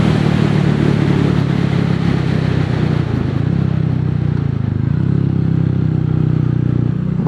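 A Royal Enfield 350 motorcycle accelerating up to about 60, a loud steady low engine drone that climbs in pitch, with wind rush over it and no talk.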